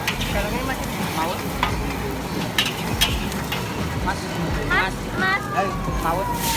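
Bakmi goreng noodles sizzle and get stirred in a pan at a street food stall in Batu's town square, a steady busy frying hiss with scraping strokes, with people chatting and traffic noise in the background.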